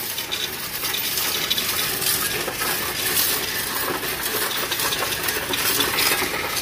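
Loose coins pour steadily into a Coinstar coin-counting machine at a Real supermarket, a dense, continuous metallic rattle and clatter filling the whole stretch without pause, close and fairly loud.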